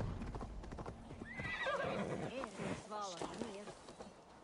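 A horse in Assassin's Creed Valhalla clip-clops with hooves and gives a clear whinny partway through, loud and close, with a voice talking over it.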